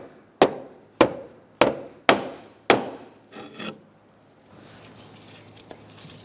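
Five sharp metallic taps from a pry bar striking a bolt during serpentine belt replacement on a 2014-2019 Kia Soul 1.6L four-cylinder, evenly spaced and ringing, followed by a brief scraping rattle and quiet shop ambience.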